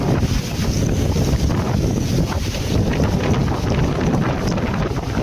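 Strong typhoon wind roars and buffets the microphone in a loud, continuous rumbling rush, gusting unevenly with no letup and no voices heard.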